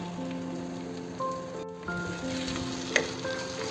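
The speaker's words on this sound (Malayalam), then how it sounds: "രണ്ട് തക്കാളി പ്യൂരിയാക്കി അത് ഇതിലേക്ക് ചേർക്കാം" Tomato puree hitting a hot pan of fish biryani masala sizzles steadily and close, a continuous frying crackle with light stirring and a brief dip midway.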